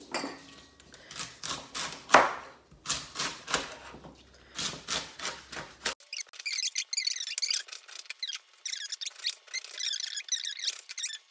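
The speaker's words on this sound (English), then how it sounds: "I can chop them up" Freshly harvested, rainwater-grown garden greens being chopped on a board in an urban homestead kitchen, a run of crisp, evenly spaced knife strokes, loud and close, followed by a faster, lighter patter of cuts.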